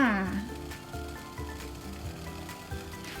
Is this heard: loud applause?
no